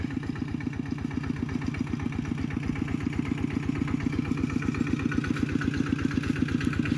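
A tractor engine comes down into a flooded rice paddy during transplanting, its steady rhythmic diesel chug and clatter running throughout and growing slightly louder, with no talking.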